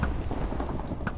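Lightning and thunder in a Minecraft Sheep Wars match: a brief, fairly faint crackling rumble like a rain-laced thunderclap, heard alone without talk.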